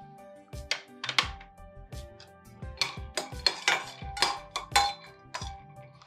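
Almonds rattle and knock in a dry pan as they are roasted and stirred, giving a rapid series of close, hard clinks and scrapes from the utensil against the pan, with no speaking.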